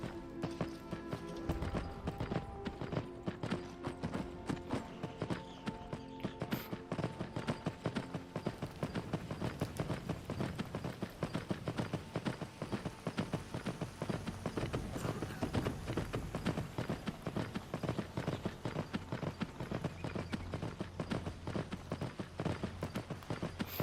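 Horse hooves clip-clop continuously in Skyrim VR near the Whiterun stables, a fast, even run of close, distinct hoofbeats that carries on at a steady pace for the whole stretch.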